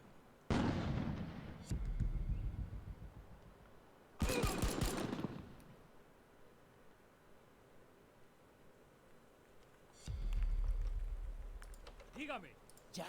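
Grenadiers' explosions and gunfire in the video game Narcos: Rise of the Cartels come as three separate loud bursts of shots and blasts with quieter gaps between them, and faint voices can be heard in places.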